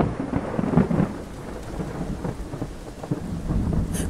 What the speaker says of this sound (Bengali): বৃষ্টি তখন টিপ টিপ করে নিজের গতিবেগ বাড়াতে শুরু করে দিয়েছে।